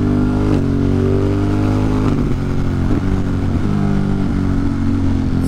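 A motorcycle ridden through Manhattan, its engine droning loud and close with rising and falling revs, wind noise over the steady harmonic hum.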